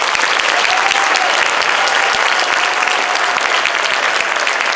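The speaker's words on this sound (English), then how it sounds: "Can we give them a round of applause?" A school concert audience gives the Woodbridge Senior High School Band Boosters a dense, loud, sustained round of applause at a middle school winter concert, the clapping steady throughout with no talk over it.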